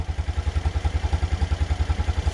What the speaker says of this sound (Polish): Fajnie chodzi na takich niskich obrotach, troszeczkę klepią zawory, ale to jest standard.